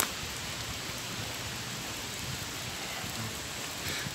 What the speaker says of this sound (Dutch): terwijl het nog een beetje regent.